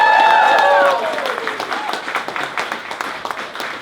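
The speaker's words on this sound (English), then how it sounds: "So I want to hear the loudest applause that you can give." An audience in Brisbane applauds for Nolan: a voice speaks briefly at the start, then a burst of crowd clapping follows, moderately loud with distinct individual claps.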